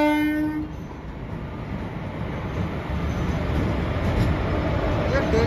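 Prayagraj-Ballia MEMU passenger train arriving at Banaras railway station, a brief horn blast at the start, then continuous rumbling wheel and engine noise with a faint high whine, close and loud.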